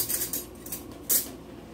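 A skillet with butter in it clatters onto a stovetop, a few light metallic clinks and scrapes with one sharper knock near the end, close and fairly quiet with no voices.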